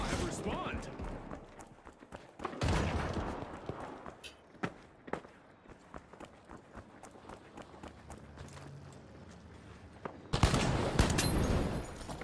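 Gunfire in the video game The Finals: scattered sharp shots and short bursts across a busy match, with two heavier dense volleys near the start and end, mixed with footsteps and general game noise, while a person talks throughout.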